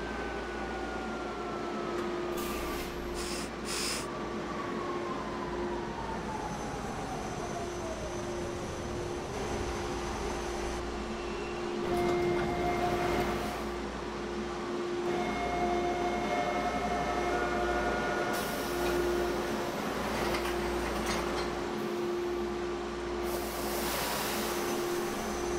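A TTC H6 subway train rolls along Line 2 Bloor-Danforth between Ossington and Dufferin, with a steady loud rumble, a droning motor hum, and high brake squeals and gliding whines rising and falling over the run.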